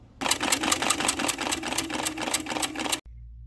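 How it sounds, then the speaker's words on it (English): A sewing machine stitches patch material onto a linen chemise right along a folded edge, a close, rapid mechanical pulsing that runs steadily for about three seconds and then cuts off abruptly. "I'm going to go in with my sewing machine, and as close as I can to that edge, I'm going to sew on the patch material"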